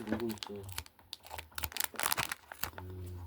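Small scissors snip and crinkle through plastic packaging of a Pokémon Meloetta figure, giving short dry cuts and rustling bursts, close up, with a person talking between and over them.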